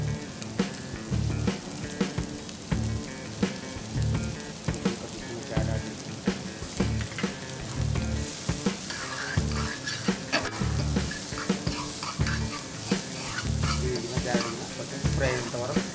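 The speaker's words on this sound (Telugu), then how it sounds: "మంచిగా ఫ్రై అయినంత వరకు శుభ్రంగా కలుపుకోవాలి" Carrots and mixed vegetables stir-fry for veg hakka noodles, a steady close sizzle with repeated scraping stirs throughout.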